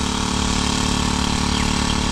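Grass cutter engine running on a farm, a steady loud droning buzz at constant speed with no change in pitch and no talking over it.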